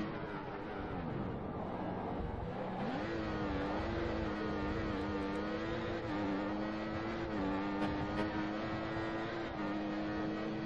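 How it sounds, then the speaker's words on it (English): An F1 car engine screams at full revs in the F1 2014 racing game at the Austrian GP, a high, sustained whine that climbs in pitch early on, then holds with small shifts. "The car behind is running on full revs."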